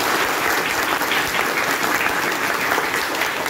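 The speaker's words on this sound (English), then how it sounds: "Please welcome them with a big round of applause." Steady, dense round of applause from a school event audience welcoming two guests at an English speech competition, continuous and full throughout.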